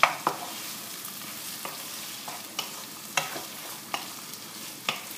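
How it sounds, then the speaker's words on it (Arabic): Garlic cloves frying in a pan, a low steady sizzle broken by sharp scraping stir strokes about every second, close and fairly quiet, with no voices. "ثلاثة سنون ثوم، نقلب توا، نحركها بالقدا بالقدا"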